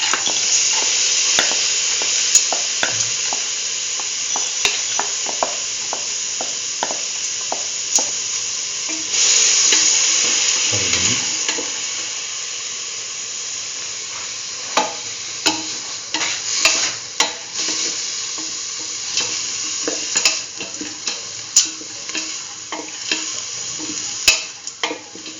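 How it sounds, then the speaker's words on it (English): A spoon stirs kidney beans through a chayote stew mixture in a pan, giving steady scraping and wet clacks with a soft sizzle running underneath, growing busier and more clattery toward the end. "thoroughly mix the kidney beans with the rest of the mixture"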